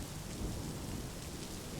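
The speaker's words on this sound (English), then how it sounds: "rain had started to fall" Rain and thunder sound effect for a rainy-night scene, a dense steady hiss of falling rain over a low rumbling thunder bed, constant and moderately quiet without any voice.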